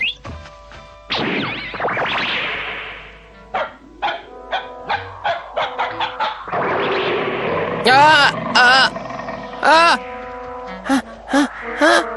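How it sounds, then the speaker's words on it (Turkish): A wolfdog barks in a series of sharp, repeated barks and yips, fairly close and loud, mixed with thumps and other sounds in an animated scene. "Kurt köpeği hav."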